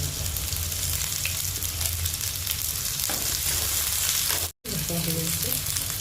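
Chopped garlic and ginger frying in hot oil for a brinjal bharta make a constant close crackling sizzle with occasional stirring, broken by a brief dropout to silence near the end.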